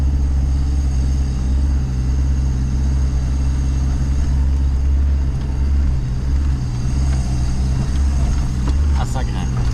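An SUV engine labours up a dry, rocky track in the Russian Altai, producing a loud, steady low drone that stays close for the whole stretch, with some rattling near the end.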